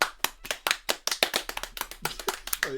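A small group of friends claps in a quick, uneven burst of applause close by, celebrating the release of a band's first album.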